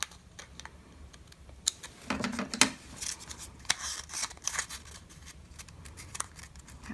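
Scissors snip a paper mermaid bookmark in a quick series of small, close, crisp cuts with irregular spacing, heard alone without any talk.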